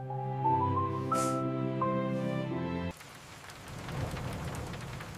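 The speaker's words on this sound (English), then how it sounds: "It is raining outside." Rain falls outside a quiet home, a steady broadband hiss and patter heard from indoors that takes over after a sustained humming tone cuts off partway through.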